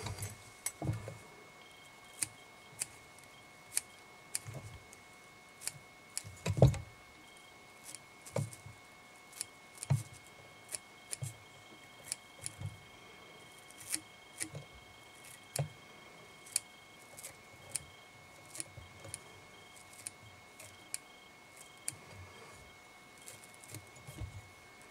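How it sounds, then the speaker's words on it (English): Scissors snip repeatedly while trimming a deer hair head on a black and silver sea trout muddler fly, giving a steady run of small, close, crisp cuts with short pauses in a quiet room. "And then we just need to trim up our deer hair head."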